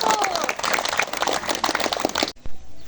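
A school audience of students and teachers claps for candidate number one at a student election, a lively spread of hand claps with scattered voices that cuts off abruptly near the end.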